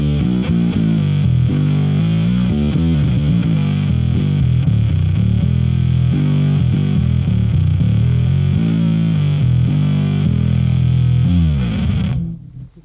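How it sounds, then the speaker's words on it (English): A bass runs through a Darkglass DFZ dual fuzz and an OctaBass with chorus, producing thick, buzzy synth-like fuzz notes in a steady riff, loud and close, cutting off at the end. "DFZ, the dual fuzz engine from Darkglass Electronics, which just gives me some really nasty synth tones with the OctaBass"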